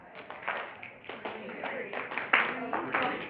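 Group of people snapping and clapping in rhythm during a count-to-three game, with sharp repeated claps over a steady murmur of voices and talk.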